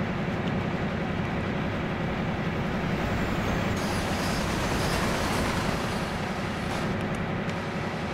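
An oncoming train passing in Train Sim World 2, a steady, loud rolling rumble and wheel roar that holds throughout with a brief brighter swell midway, no voices.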